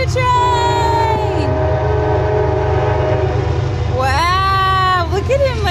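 A train passes close by with a loud steady rumble and clatter of rail cars, its horn sounding long sustained tones and again near the end, while people talk over it.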